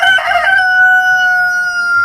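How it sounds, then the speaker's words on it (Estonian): A rooster crows one loud, close cock-a-doodle-doo, a harsh opening burst sliding into a long sustained tone that holds to the end. "Jah, kukk."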